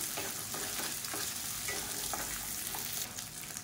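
Dried red chillies and tamarind sauté in a pan for chutney, giving a steady, dense sizzle close by. Faint scraping stir strokes run through it, with no voices.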